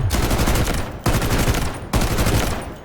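An M14 DMR rifle fires in the video game Delta Force, with three loud bursts of rapid shots, each cut off abruptly before the next begins.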